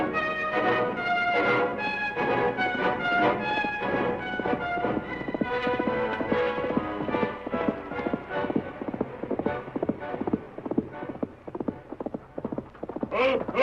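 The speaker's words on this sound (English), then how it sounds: "Called his horse Silver." Horse hooves clip-clopping as a radio drama sound effect, a fast continuous rhythmic clatter of hoofbeats, close and loud throughout.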